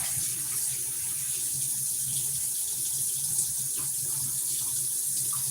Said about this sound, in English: Rinsing it off now.